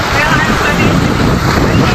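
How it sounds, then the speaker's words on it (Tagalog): Sea waves breaking against rocks along the Bataan coast, a continuous loud wash of broadband surf roar mixed with wind buffeting the microphone, close and unbroken throughout. "So maingay lang talaga yung dagat"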